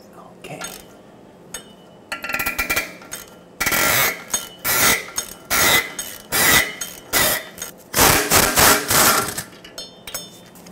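A 13 mm socket is hammered onto a rusted nut on the catalytic converter pipe of a 2009-2010 Ford F-150 5.4L, sharp metallic strikes in close repeated bursts, loud and near, with a pause before rapid flurries of blows.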